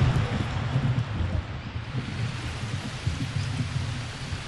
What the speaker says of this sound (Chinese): 还没走到竹林深处，大雨突然降临。